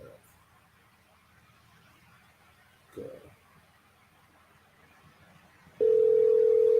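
A telephone line picks up with a steady, loud continuous tone near the end while calling a listener back on a sports talk show, after faint background noise and a brief thump.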